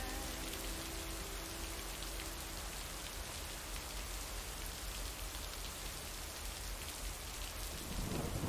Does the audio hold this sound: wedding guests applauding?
no